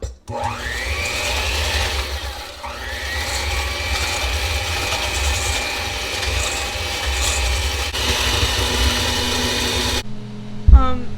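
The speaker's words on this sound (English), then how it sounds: "So I'm going to be whisking this on medium-high for a while." An electric mixer whisks chocolate cake batter on medium-high, a steady close whirring drone with grinding, rubbing texture that runs unbroken for about ten seconds before cutting off, followed by a brief clatter.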